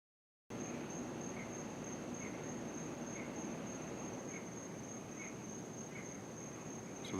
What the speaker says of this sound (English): So that's tree frogs there that you hear.